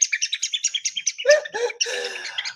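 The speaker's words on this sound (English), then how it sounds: "It's a squeaker, like the salt and peppers with the little squeaker." Squeaker inside a plastic bird basket ornament with dyed feathers chirps loudly and close, first as a quick, even run of short squeaks, then as looser, warbling bird-like chirps.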